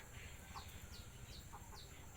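Chickens kept on a small rural farm beside a rubber plantation and vegetable garden in Udon Thani, Thailand, in the evening, clucking in short repeated calls over a steady hiss of outdoor background noise, with no talking.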